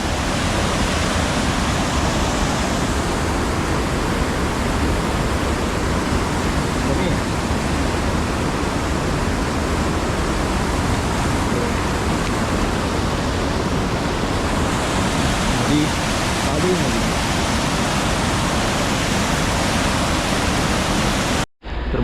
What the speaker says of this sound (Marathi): हे बघता इकडे ब्रिजवरून पाणी जाते